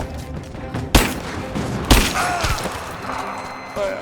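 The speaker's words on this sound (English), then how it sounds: "Throwing a grenade!" A grenade is thrown and explodes in the video game Rise of the Tomb Raider, with two sharp, loud blasts about a second apart, then rumbling debris and scattered game sounds underneath.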